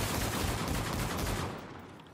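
Gunfire in a zombies video game, a dense continuous rattle of shots that stays loud and then quickly fades toward the end.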